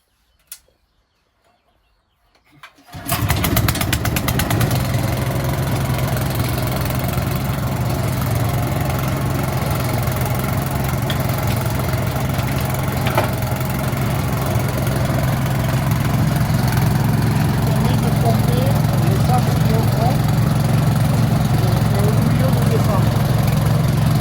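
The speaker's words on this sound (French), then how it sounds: "on va mettre le moteur en route pour le battage" After a few quiet seconds, the heavy engine of a homemade well-drilling rig starts up for percussion driving and runs steadily, a loud low droning rumble that continues without pause.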